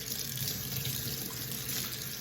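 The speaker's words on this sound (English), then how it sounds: "Then I just give them a good rinse." Hands being rinsed under a running faucet, a steady hiss and splash of tap water pouring over skin into a sink, continuous and fairly quiet, with no voices.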